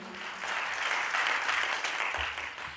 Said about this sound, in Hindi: अगर समर्थन करते हो तो एक बार भरपूर तालियां बजाइए।